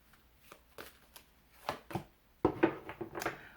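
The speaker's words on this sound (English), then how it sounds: "I am shuffling the last deck here" A deck of cards being shuffled up close, several quiet riffling bursts followed by a louder flurry of snapping cards, no talking.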